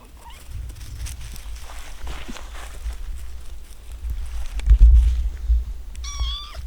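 Outdoors on a rural homestead, a cat gives a short meow near the end, faint against low wind and rumbling handling noise. Nobody speaks.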